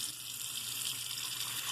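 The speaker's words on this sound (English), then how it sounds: "So let's just fill this sink up." A tap running into a sink as it fills with water, a soft steady rushing stream heard close and fairly quiet, without a break.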